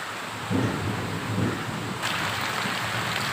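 Steady rain hisses down with a broad, constant wash, and low rumbling swells beneath it now and then.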